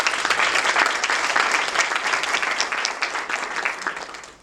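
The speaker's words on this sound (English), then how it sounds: "They both deserve a round of applause" Audience applause at a county executive candidate forum, a short burst of loud, dense clapping that holds steady and then tapers off toward the end.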